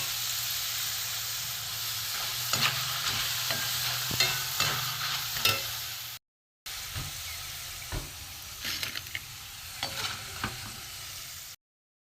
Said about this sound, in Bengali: আমার আলু ফ্রাই হয়ে গেছে